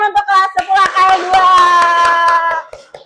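A school class claps in quick rhythmic bursts while children's voices chant along loudly, and the clapping fades out at the end.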